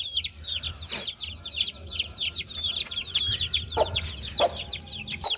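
A brood of Aseel chicks peeping constantly in high, busy chirps, with an Aseel hen's occasional low clucks mixed in nearby.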